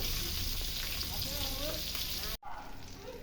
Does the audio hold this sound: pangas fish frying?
yes